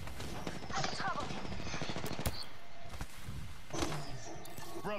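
Rapid automatic gunfire from an Apex Legends match, dense and continuous with sharp bursts layered over game effects, while players talk over it.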